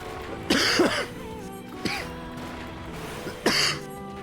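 A person coughs three times, each a short harsh burst with gaps between, close and fairly loud over soft game music.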